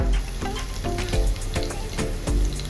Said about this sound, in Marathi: जिऱ्याला ना छान प्रकारे गरम करून घेऊया तडपून देऊया